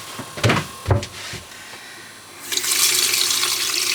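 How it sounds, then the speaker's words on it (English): Water gushes from a tap aboard a boat after a couple of knocking clunks, the flow starting loud and steady and running on to the end. "Let me turn the tap on."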